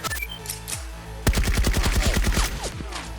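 Rapid gunfire from a trooper opening fire in a fantasy battle scene: a sharp burst of repeated close, loud shots in quick rhythm over a low rumble, following a quieter lead-in.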